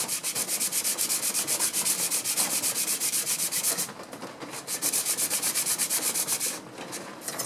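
A bench plane blade is rubbed back and forth on fine sandpaper in a steady, even, raspy rhythm of quick strokes, with a brief pause near the middle before the strokes resume.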